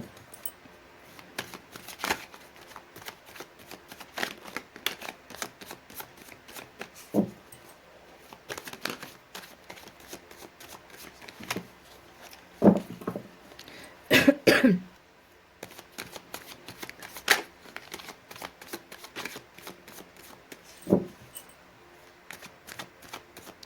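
Tarot cards shuffled by hand in a quiet room, giving repeated soft riffling and slapping bursts with short pauses between them and no talking.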